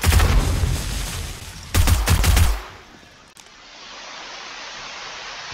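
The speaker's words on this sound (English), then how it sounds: "Oh, they've set up an explosion." Explosion in the video game 7 Days to Die during a tier 5 apartment block quest: a loud, dense roaring blast with a second burst, then fading to a quiet rumble.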